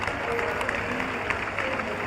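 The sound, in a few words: audience applause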